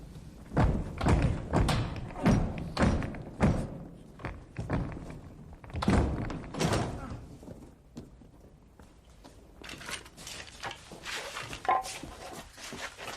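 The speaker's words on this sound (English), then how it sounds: "I want to try and bash the door in." A door is bashed in during a radio drama, heard as a series of heavy, irregular thuds and knocks, close and loud at first, then lighter scraping and bumping toward the end, with no speech over it.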